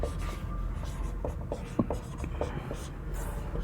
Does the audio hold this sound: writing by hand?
yes